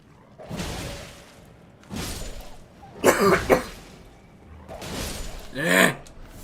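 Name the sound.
coughing after the flu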